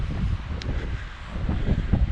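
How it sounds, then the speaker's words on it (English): Strong wind on the beach at Paguera, Mallorca, buffets the microphone with a continuous low rumble and gusty swells, close and fairly loud. "But very, very blustery at that point, and it's still a little bit blustery"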